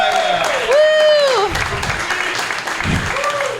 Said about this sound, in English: everybody clap your hands for Mike Figs